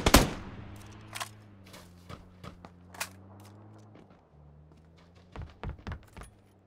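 Gunfire in the battle royale game PUBG during a scrim match, an opening loud shot followed by scattered distant cracks and short bursts over a steady low engine hum.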